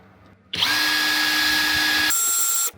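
A SKIL 3285CA cordless impact wrench runs free in a test: a sudden start into a loud, steady high whine for about two seconds, a shift to a different pitch, then an abrupt stop, close up.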